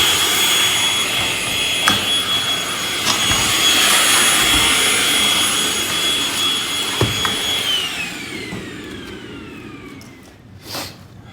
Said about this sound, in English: Something I like to do is just clean out the track with a vacuum really quick.